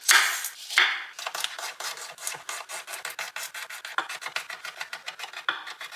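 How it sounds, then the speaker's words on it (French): A fresh garlic clove gets minced with a knife, giving a rapid, close run of short, crisp chopping strokes that quicken into a steady rhythm, with no one speaking. "Je vais hacher une gousse d'ail fraîche."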